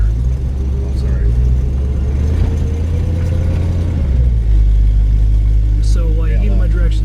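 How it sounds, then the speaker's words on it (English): A 1971 Plymouth Cuda's engine starts cold after a few accelerator pumps and settles into a loud, steady low idle rumble that fills the clip, with a brief rev partway through. "The car cold started nicely, about 4 pumps of the accelerator, and it fired right up."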